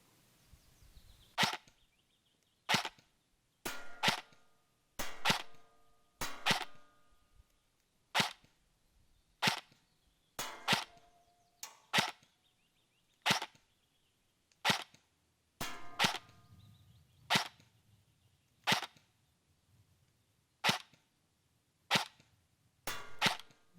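An E&L M4A1 Platinum airsoft rifle fires 0.3 gram BBs in about twenty sharp, loud single shots at irregular intervals, each a crisp snap with a brief mechanical whir, over an outdoor range of roughly 35 meters.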